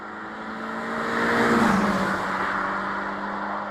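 Subaru BRZ sports car engine, a steady drone that swells as the car draws close and passes nearby with a slight pitch drop, then holds on at a lower level.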